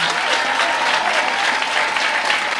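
A church congregation applauding and acclaiming the Lord, dense loud clapping from a large crowd that holds steady throughout, with voices mixed into the roar.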